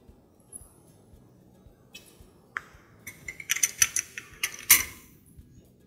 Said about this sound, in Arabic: كمان نحط فلفل اسود